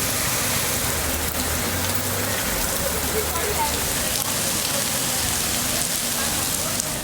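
Heavy, continuous rain pours down steadily in a dense, loud roar, with a faint low hum underneath and no one speaking.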